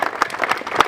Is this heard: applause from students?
yes